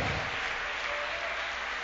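A church congregation applauds during a worship service, a soft, even wash of many hands clapping that sounds somewhat distant and continues without a break.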